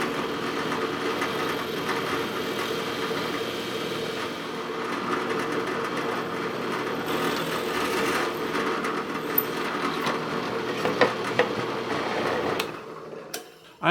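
Steady mechanical whir of a step drill bit cutting through material, continuous and close for most of the clip before winding down with a few clicks at the end.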